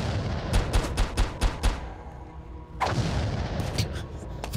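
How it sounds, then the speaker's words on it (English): A rapid string of sharp booming blasts from The Binding of Isaac: Repentance is followed by a pause, then a deep rumbling explosion with a few scattered bangs trailing off. "Fucking explosions."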